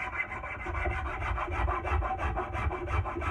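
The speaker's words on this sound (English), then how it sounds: "So I'm gonna keep smoothing out these lines," A rasp or file smooths the lines and corners of a wooden tool handle in a workshop, giving fast, even, close scraping strokes in a steady rhythm.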